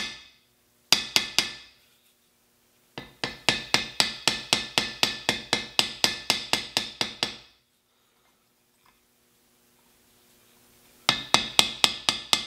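Rapid bursts of bright metallic hammer blows peen a metal knife handle flat, close and loud, with a long steady run of evenly spaced strikes between shorter bursts and pauses of silence.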